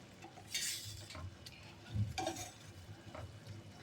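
Quiet scraping and soft clinks of a utensil stirring rice vermicelli noodles with dried shrimp in a frying pan, a few light strokes with faint sizzling in the background.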